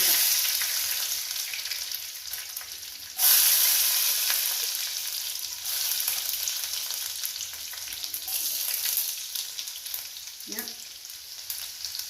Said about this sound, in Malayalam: കടുക് പൊട്ടിക്കഴിഞ്ഞാൽ നമ്മൾ വെളുത്തുള്ളി അരിഞ്ഞതില്ലേ അത് ഇട്ടു